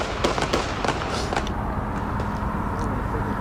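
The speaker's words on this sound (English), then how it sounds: "you will hear gunshots" Rapid gunshots crack out in a quick cluster at a shooting scene in downtown San Diego, heard at a distance over steady street and traffic rumble, then fade to scattered faint pops.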